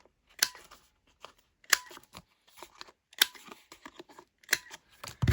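Scissors snip the corners off a piece of card in a craft project. Crisp, separate cuts come in irregular bursts, with quiet handling of the paper between them and no talking.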